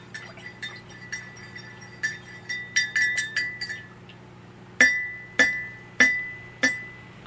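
A spoon stirs a glass of gingerbread coffee and rings against the glass in bright, repeated clinks. A quick run of taps is followed, after a pause, by four slower, resonant chimes that each fade out.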